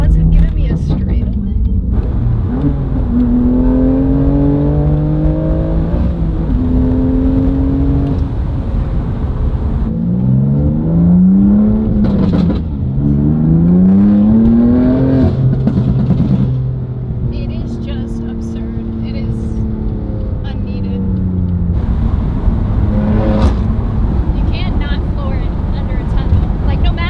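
A BMW M2 Competition engine with rolling anti-lag drones loudly from inside the car, climbing and dropping through the revs with bursts of pops and crackle, wind noise throughout and occasional talking.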